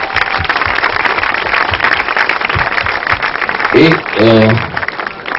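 Gala audience in Riccione giving a big round of applause in honor of fashion designer Gianni Versace, dense steady clapping throughout with a voice briefly rising over it near the end.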